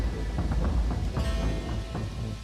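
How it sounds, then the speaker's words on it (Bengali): Cartoon rainstorm sound effect with steady pouring rain and low rumbling thunder, loud and continuous throughout. "বৃষ্টিতে ভিজতে আমাদের কষ্ট হচ্ছে।"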